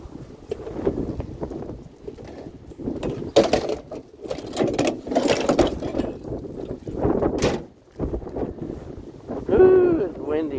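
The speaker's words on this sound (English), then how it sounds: "Ooh, it's windy." Gusty wind buffets the microphone outdoors in bursts and rumbles over a street scene, while people talk intermittently throughout.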